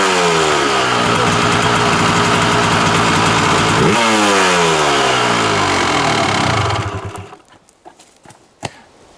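A Kawasaki dirt bike engine runs loud and close, revving up and down in rising and falling sweeps, then is shut off and dies away, leaving a few faint knocks.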